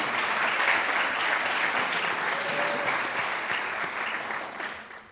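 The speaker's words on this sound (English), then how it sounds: "Please applause if you want." A crowd applauds steadily, close and loud, the clapping gradually fading out toward the end.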